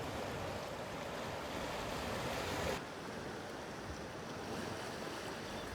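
Waves wash in at a Pembrokeshire beach with the tide high, making a continuous rushing surf mixed with wind noise at a moderate, even level.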